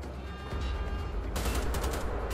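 Automatic rifle fire in Wolfenstein: The Old Blood, a dense loud burst of gunfire that kicks in partway through over a steady low rumble, shots running together without clear gaps.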